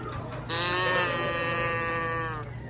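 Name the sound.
cow moo from toy turned upside down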